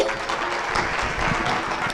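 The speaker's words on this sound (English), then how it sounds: "Another round of applause. Keep it going. Keep it going." Audience applause at a youth STEM exhibition award ceremony, a steady wash of clapping throughout, moderately loud and continuous.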